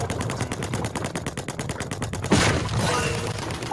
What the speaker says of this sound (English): that came in perfect, the gunshots